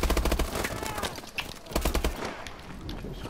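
Bursts of rapid automatic gunfire in Call of Duty: Advanced Warfare, two close, loud volleys of rattling shots separated by a brief gap, with scattered reports in between.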